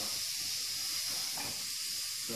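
Steady close hiss of air escaping from the valve of an Exmark Vantage mower tire, continuous and fairly faint, with no talking.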